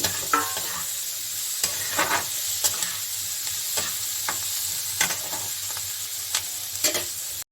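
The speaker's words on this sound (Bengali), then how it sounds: "পেঁয়াজটা আমার হালকা ভাজা হয়েছে" Onion frying with potato in a pan makes a steady close sizzle, punctuated by regular scraping clicks as a spatula stirs.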